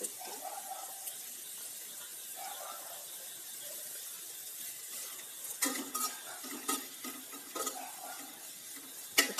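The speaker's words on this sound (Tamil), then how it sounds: "வெங்காயம் லைட்டாக வதங்கிடுச்சு" Onions sauté in a pan for beetroot poriyal, a soft steady sizzle broken by repeated scraping and clinking of a spoon stirring against the metal pan.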